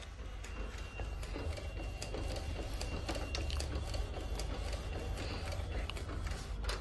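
A modified Epson ET-8550 DTF printer prints onto a roll with a continuous mechanical whir, its print head ticking and clicking rhythmically back and forth throughout, close and steady.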